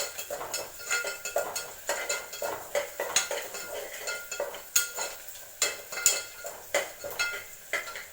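A utensil stirs onions sautéing in a pan, making repeated scraping clinks against the metal in a steady rhythm, close and clear, over a faint sizzle with no speech.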